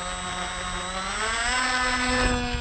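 An X-UAV Mini Talon model plane's electric motor whines at a bit over half throttle for launch, a loud close steady drone whose pitch climbs gradually, with no voices over it.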